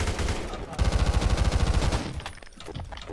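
Gunfire in the Garry's Mod video game rattles out as a rapid burst of shots, loud and close, followed by quieter scattered sounds.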